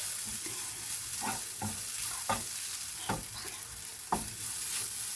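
A spiced squid mixture is stirred in a frying pan, a spoon scraping and knocking against the metal in a loose, irregular rhythm over a constant close sizzle, with no talking.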